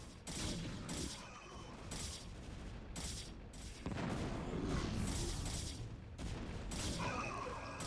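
Cannon fire in a competitive video game match: a rapid series of sharp blasts and crackling bursts, repeated in clusters at a fairly low level, with no voices heard.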